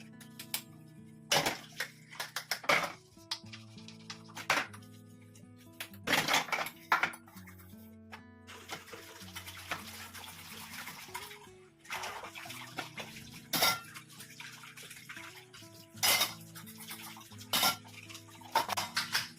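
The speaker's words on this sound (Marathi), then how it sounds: "पटपट पटपटचा भांडी धुवून घेते" Dishes are washed by hand at a home sink: pots, pans and cutlery clatter and clank at irregular intervals over running, splashing water, with no talking.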